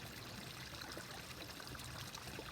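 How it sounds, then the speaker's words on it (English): A water fountain running, a continuous soft even splash and trickle at moderate distance, steady throughout with no talking. "It's a water fountain."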